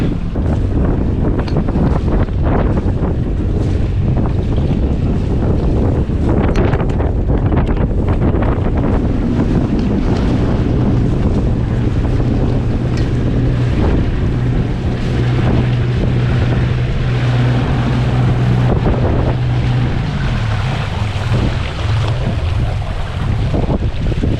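Strong wind buffets the microphone continuously over the rush of water against a 28-foot boat crossing the Kattegat sea, loud and steady throughout with no voices.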